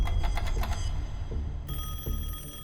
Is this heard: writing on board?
no